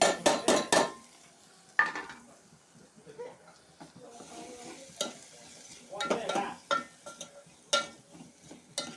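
Raw mango pieces going into a pot of cooked mutton curry, heard as sharp clatters of the spoon against the pan and wet stirring with a soft sizzle, at a modest level.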